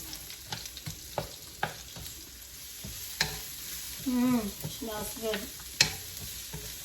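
Garlic and onion sautéing in a pan, a soft sizzle under repeated scraping stirs of a utensil against the pan, with someone speaking briefly partway through.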